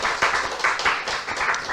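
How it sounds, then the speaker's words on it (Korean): A church congregation claps together in a sustained, uneven burst of many hands, fairly close and steady throughout with no talking over it. "우리 함께 박수 한번 쳐볼까요?"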